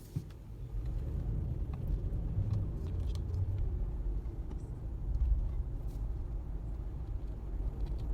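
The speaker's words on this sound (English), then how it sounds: "we're going to drive down the street here" Steady low rumble of a car rolling along a street, continuous engine and road noise throughout with no talking.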